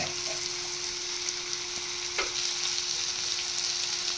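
Chow mein frying in a pan, a steady close sizzle with brief stirring scrapes and a faint continuous tone running underneath.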